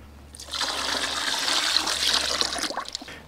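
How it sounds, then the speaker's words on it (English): Water pours steadily into a half-filled bucket for a portable camping washing machine, about four litres in, a continuous splashing rush, close and fairly loud, easing off near the end. "So I'll put in 4 litres, which is basically half a bucket."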